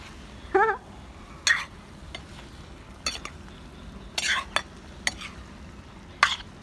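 A spoon stirs vegetable curry masala frying in a pan, with a low sizzle underneath and about seven short, sharp scraping and clinking strokes spaced irregularly.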